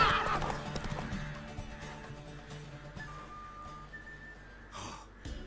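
A horse neighs loudly in a breathy whinny at the start, then snorts and shifts its hooves amid fantasy-game ambience in The Witcher 3, fading to quieter movement and a soft snort near the end.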